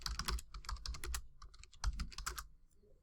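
Rapid typing on a computer keyboard while searching Twitter, a close burst of crisp, uneven key clicks with a brief pause midway, no voices.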